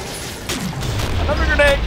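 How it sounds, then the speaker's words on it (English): A grenade in the shooter game Killing Floor goes off as a swelling low boom and rumble. A rattle of gunfire comes just before it, and the blast is loud and close at the end of the short burst. "Grenade!"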